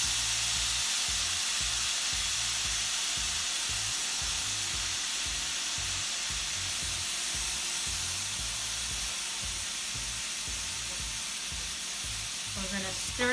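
Onions sizzling in a pan with curry, a steady bright hiss with faint stirring, continuous and close with no talk.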